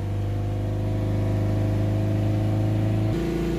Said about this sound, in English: And we'll hold the revs back up around 3000 RPM.